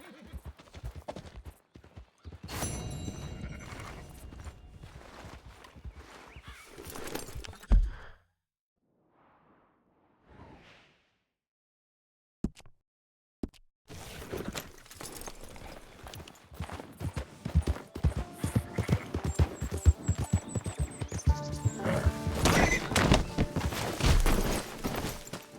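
Horse hooves clip-clop in Red Dead Redemption 2 with a whinny and whooshing game effects. The rhythm breaks off into near silence midway, then resumes loud and busy.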